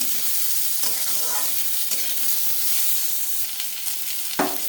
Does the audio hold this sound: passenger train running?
no